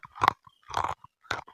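Crisp crunching of an eggless onion stick cookie being bitten and chewed up close, three distinct crunchy bursts separated by brief pauses, with no talking.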